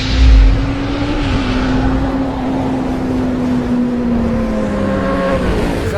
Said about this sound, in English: a 2000 Road King Cleveland Police bike versus a Nitro Triumph